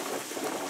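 Deep fryer crackling and sizzling with oil, a dense continuous patter of fine pops, close and steady through a very short moment, with no voices.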